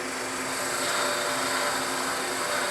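A wood lathe spins a pen blank while a tool parts it off, a steady high hissing whine of cutting that holds at an even level throughout, close and without talk.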